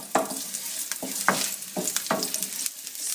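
Garlic stirred in hot oil with a wooden spoon for Chinese noodles: close, repeated scraping strokes, about five of them, over a steady bright sizzle and crackle.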